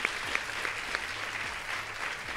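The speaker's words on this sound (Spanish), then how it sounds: "Y vamos a pedir un aplauso" Audience applause, moderately loud and continuous, with a few sharper individual claps and whistle-like accents standing out from the steady patter.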